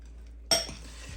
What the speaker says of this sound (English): let's go ahead and gently mix this together